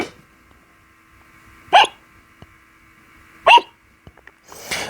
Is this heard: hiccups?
yes